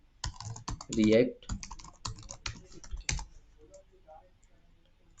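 A computer keyboard clatters up close as code is typed in a quick burst of clicks and key taps, then a few scattered presses, with someone speaking over the typing.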